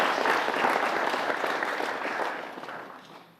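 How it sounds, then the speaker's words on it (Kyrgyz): Relatives applaud and shout, a dense burst of clapping that is loud at first and then slowly fades away. "кыйкырып кол чаап аткан ушу сиздин туугандарыңыз турбайбы анда"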